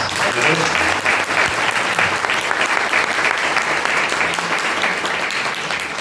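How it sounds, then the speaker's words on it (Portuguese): Dense, sustained applause from a church congregation fills the space, steady and loud throughout with no pause. "Dá uns aplausos para elas."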